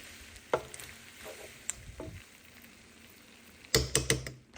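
Pre-scrambled egg is stirred into noodles frying in a pan, a soft sizzle under scattered scrapes and clanks that grow into a louder burst of stirring near the end.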